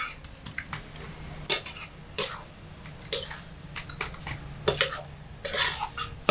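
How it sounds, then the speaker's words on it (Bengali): Carrot halwa with liquid milk being stirred in a pan over medium heat, giving repeated scraping and clinking of a spoon against metal in irregular bursts, close and fairly clear over a low steady background hum. "গাজরের হালুয়াটা বানানোর সময় কিন্তু খুব ঘন ঘন নেড়ে এটাকে বানাতে হবে"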